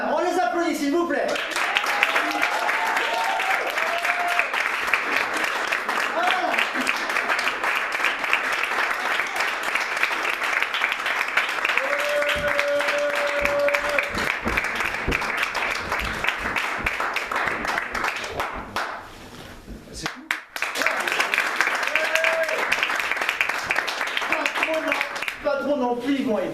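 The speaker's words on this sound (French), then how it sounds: "On les applaudit, s'il vous plaît." A crowd at an improv theatre show applauds the players, loud sustained clapping filling most of the stretch with cheers and voices over it, a brief dip near the end before the clapping swells again.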